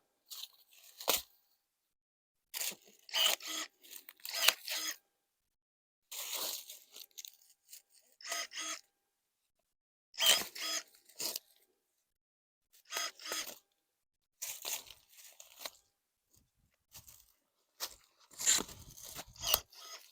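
Repeated sharp snips and crunches of pruning shears cutting through woody hazelnut shoots, in short bursts separated by quiet pauses.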